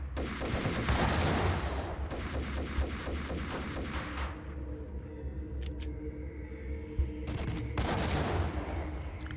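Max Payne game gunfire: heavy overlapping volleys of shots for several seconds, a lull with a few sharp isolated clicks and pops, then another loud burst near the end, no talking.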